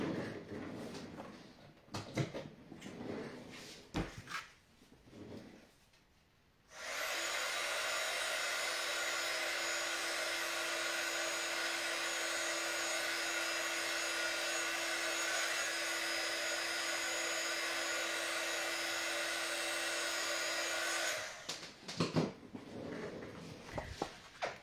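A heat gun melts embossing powder on a card, blowing as a steady, loud whoosh for about fourteen seconds. It starts and stops abruptly, with quiet handling noises before and after.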